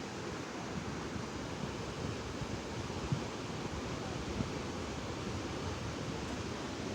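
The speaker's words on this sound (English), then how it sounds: "The water to my right is coming downstream at about 35 to 40 kilometers an hour" The Niagara River rushes downstream below the falls at high speed, a steady broadband roar heard from a distance, even and unbroken with no talk.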